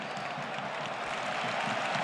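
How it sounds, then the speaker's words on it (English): Stadium crowd during a Barcelona vs Real Madrid match in Seville giving a ripple of applause for a pass, a distant, steady wash of clapping and crowd murmur throughout. "And a ripple of applause each time that Pedri ticks along another pass"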